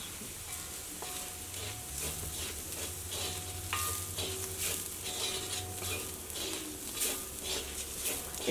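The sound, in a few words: frying spice powders in a pan for tomato fry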